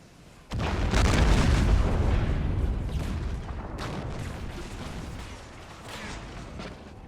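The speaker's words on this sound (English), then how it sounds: "now they should be firing canister." Canister shot artillery fires in Empire Total War, a sudden heavy boom followed by a sustained rumbling barrage of overlapping blasts that gradually eases but stays loud throughout.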